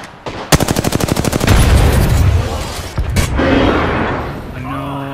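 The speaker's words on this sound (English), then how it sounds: "Frag out." A frag grenade going off during a first-person shooter match, a heavy boom amid rapid gunfire bursts and loud combat noise, with a player's voice talking over the chaos.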